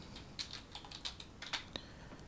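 Light, quick keystrokes on a computer keyboard, faint and close, tapping in an uneven burst of about a dozen clicks while typing a search into Google.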